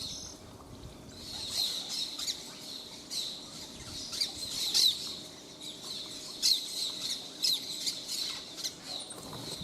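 Wild green-headed tanagers feed from an outstretched hand at Trilha dos Tucanos. Their thin, high chips and squeaky calls repeat steadily over a soft outdoor background, at moderate distance and fairly faint.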